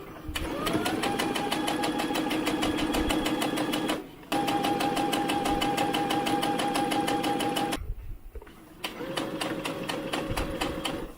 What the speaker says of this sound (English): now we're going to sew all the way around the outer brim of the hat